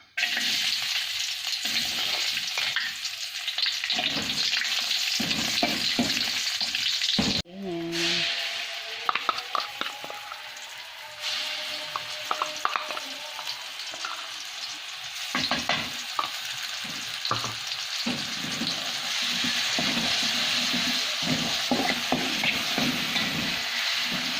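Onions sautéing in hot oil for spicy Indomie soup with Acehnese spices, a steady close sizzle running throughout, with frequent utensil scrapes and stirring clatter and a brief knock partway through.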